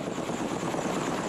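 Helicopter hovering near a cable car mast while lifting off roller batteries, a dense continuous rotor thrum and engine roar filling the whole clip at steady loudness.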